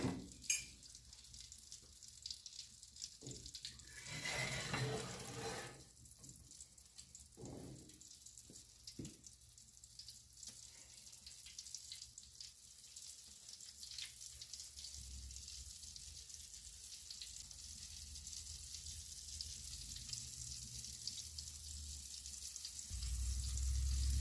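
Pieces of squirrel fry in a pan on a wood stove with a soft, continuous sizzle, quiet and steady, broken by a few louder bursts as pieces shift in the hot fat.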